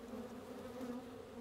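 Honeybees hum steadily around a lifted hive frame, a soft continuous drone, close and unbroken.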